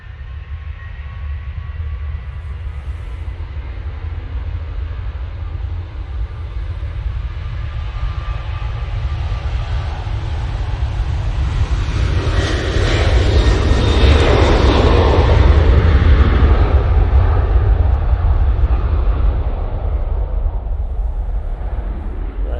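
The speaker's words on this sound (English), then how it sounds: "Well, I was going to get that Ryanair that was coming in, but we'll stay on this departing one." An airliner departs Manchester Airport with a loud, brash jet engine roar that builds steadily and peaks past the midpoint as broad rumbling noise. The roar then eases slightly, continuous throughout with no talk.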